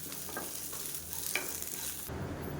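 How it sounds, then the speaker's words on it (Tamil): Shallots and curry leaves roasting in a pan, a soft continuous sizzle with light stirring scrapes, close and fairly quiet, with no voices. "இதையும் சேர்த்து நல்லா முழு முழு வறுத்துட்டேன்"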